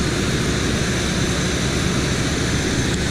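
Chevy C10 engine idling high after being rebuilt, a steady, dense, loud drone with a low rumbling throb held constant throughout, no talk over it.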